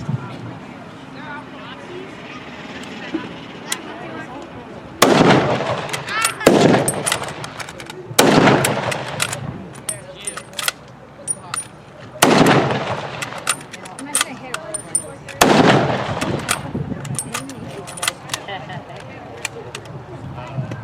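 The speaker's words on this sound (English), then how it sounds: "our rate of fire is slower than our British counterparts" WWII reenactors firing rifles at an outdoor historical-park battle reenactment, a ragged series of loud sharp shots and volleys spaced a few seconds apart, with shouted commands and talk around them.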